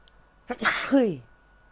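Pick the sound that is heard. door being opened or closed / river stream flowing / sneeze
sneeze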